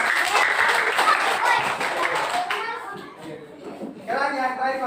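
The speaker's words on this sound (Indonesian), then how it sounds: "tepuk tangan untuk kelompok kita" Group of schoolchildren and adults clapping in applause for a class group, a busy burst of hand claps with children's voices and chatter mixed in, fading near the end as kids talk.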